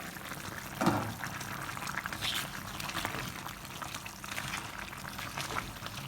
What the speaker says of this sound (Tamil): இது ஒரு 6-7 நிமிஷத்துக்கு நான் இப்போ கொதிக்க விட போகிறேன்